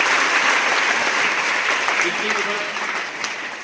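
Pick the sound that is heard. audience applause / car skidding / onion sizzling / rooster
audience applause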